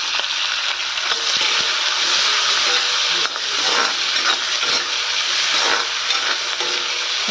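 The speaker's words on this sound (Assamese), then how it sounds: "ভাজি পেলাম এতিয়া ধুনীয়াকৈ মই।" Ground spice paste fries in a hot pan, a dense steady sizzle with occasional scraping stirs, close and loud with no one talking.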